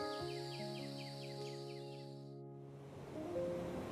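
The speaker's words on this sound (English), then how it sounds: "Sounds layer upon sounds, bird calls, insect songs, water flowing, creatures moving through vegetation." Birds call in a rhythmic, repeating chirp series over a constant layered hum of insects in a Thai national park jungle. The chorus fades out partway and a softer wash of sound follows.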